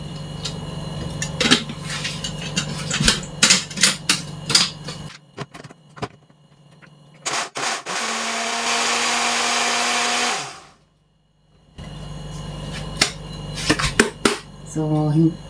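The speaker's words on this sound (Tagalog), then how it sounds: "blender natin siya" An electric blender whirs loudly for about three seconds while mixing a milk mixture for ice candy, then winds down with a falling pitch, with clattering of dishes and utensils before and after.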